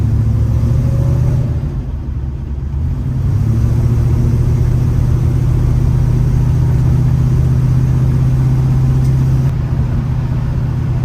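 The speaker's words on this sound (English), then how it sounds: "this car is fun to drive though" A 1967 Ford Mustang coupe's engine drones loudly and steadily from inside the car, rising briefly in pitch as it accelerates, then holding a low, even rumble while cruising.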